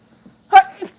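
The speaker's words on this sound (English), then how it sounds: "I'm gonna sneeze." A single person's sneeze lands mid-clip, a sharp burst with a brief follow-up huff, loud and close against near silence.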